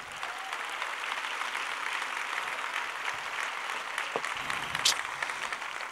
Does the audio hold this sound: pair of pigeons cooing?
no